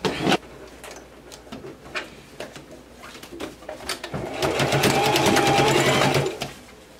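A sewing machine stitches fabric for a circle blouse top, scattered clicks at first, then a fast steady run of needle strikes that grows louder before stopping, with pigeons cooing faintly in the background.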